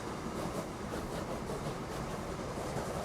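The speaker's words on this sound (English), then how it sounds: "Our cattle train is now also fully loaded and heading back up the line." A tank engine hauls a fully loaded cattle train up a graded line in Transport Fever 2, producing a steady, close rail rumble that holds at an even level throughout, with no voices.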